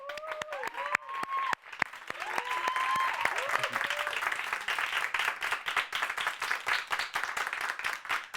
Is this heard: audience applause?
yes